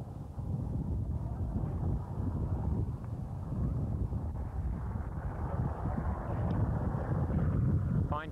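Cool wind blows across an outdoor rugby pitch in Lawrence on a 50-degree day, a steady low buffeting rumble on the microphone that lasts the whole time, with faint distant activity underneath.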